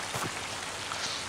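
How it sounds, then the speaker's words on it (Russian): Steady rain in the video game Oceanhorn, a dense, even hiss of falling drops with faint patters, continuous and close. "О, какой начался дождь."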